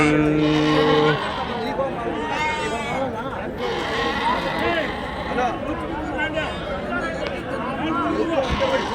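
Sheep and rams bleating at a busy livestock market, with several wavering bleats from different animals overlapping a steady crowd murmur and people talking nearby.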